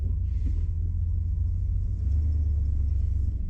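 Deep, low engine rumble of a 1968 Dodge Super Bee on the move, steady and close, with a faint hiss above it and no voices.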